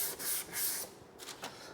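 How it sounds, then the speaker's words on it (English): A car body panel being hand sanded on a sanding block gives a few soft rasping back-and-forth strokes, quiet and close, with no talk. "just a little bit of hand sanding on a block will finish this job up nicely"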